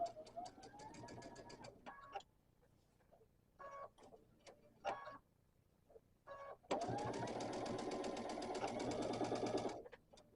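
Sewing machine stitching a quilt block seam, with a close mechanical needle rattle in short bursts, then a longer steady run over a thick seam.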